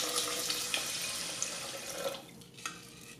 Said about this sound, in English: put the rice in, and pour in 3 cups of water measured using this cup.